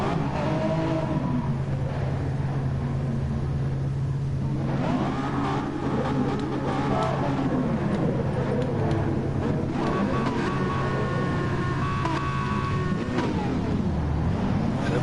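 Race cars on a rolling start at Fuji in a multi-class WEC race in a video game roar loudly together, engines revving up and down as they pass, with no talking heard.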